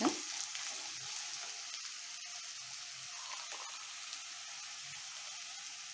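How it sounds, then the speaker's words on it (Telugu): Vegetables frying in a pan for tomato bath, a soft steady sizzle with a continuous hiss and occasional faint stirring knocks, quiet and close. "వెజిటేబుల్స్ చూసారా ఆల్మోస్ట్ ఫ్రై అయిపోయినాయి"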